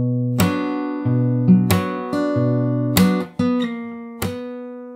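Fingerstyle acoustic guitar plays a passage of a jazz standard, picking out a melody over bass notes, with several plucked attacks ringing and overlapping, close and clear, with no voices.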